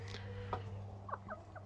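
Brahma chickens make a few soft, short clucks near the end, with a faint earlier call over a quiet background hum.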